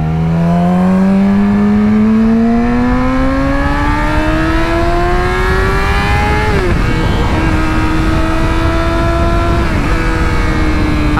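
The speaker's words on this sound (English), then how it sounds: "I missed my gear shift again." A car engine revs loudly and climbs steadily in pitch, then drops abruptly at a fumbled gear shift, holds a lower steady drone, and dips again near the end, with road noise underneath.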